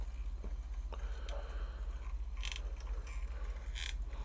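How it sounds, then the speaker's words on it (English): Creaky bed, soft intermittent creaks and squeaks of shifting weight over a low steady hum, close and faint. "my creaky bed"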